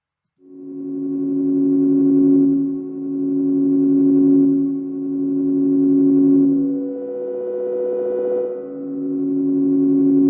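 Single-note synth melody played from a MIDI clip in Ableton with the MPE Objectivism drone, a sustained tone over a steady low drone, with slow note changes and swells, loud and alone.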